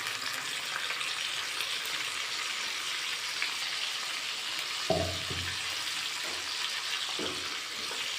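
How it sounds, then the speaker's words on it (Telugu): Mutton frying in a pan gives a steady, even hiss throughout, with a brief wet thump near the middle as onion-tomato paste gravy is added, then a few soft clatters. "ఇప్పుడు ఉల్లిపాయ టమాటా కలిపి పేస్ట్ చేసుకున్న గ్రేవీ యాడ్ చేసుకోవాలి."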